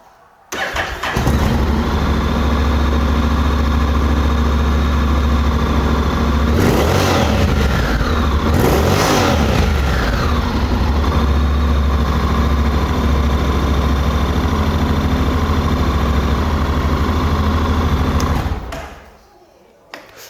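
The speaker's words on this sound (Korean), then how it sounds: "배기량이 높아서 그런지 스무스하면서도 이 묵직한 배기음을 가지고 있습니다" A 2023 Honda Forza 750 scooter's water-cooled two-cylinder engine starts abruptly, then runs with a deep, smooth exhaust drone and a couple of revs in the middle before cutting off near the end.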